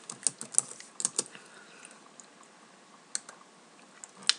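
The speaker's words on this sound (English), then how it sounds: "Apparently I cannot type that very well when I'm on camera." Computer keyboard typing in irregular bursts of clicks, close and moderately loud, with quiet pauses between keystrokes and no talk.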